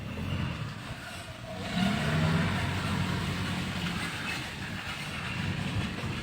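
Vehicles stuck on a muddy, broken provincial road between Pematangsiantar and Pamatangraya: a steady rolling engine drone with a swell of louder low rumble midway, continuous and fairly close, with no voices.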